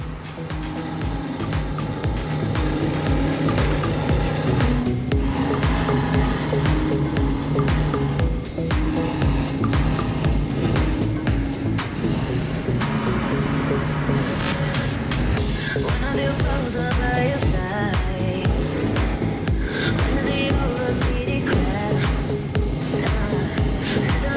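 Loud, roaring powerboat engines, including a Skater 368 catamaran with twin Mercury Racing 1100 engines, rush past one after another during a Miami poker run, a dense, continuous blast of motor noise with rising and falling intensity.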